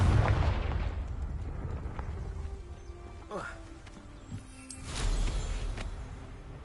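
Confringo fire-spell blasts in Hogwarts Legacy: a few deep booms and crackling bursts, one early, another mid-way and a louder one near the end, with talk in between.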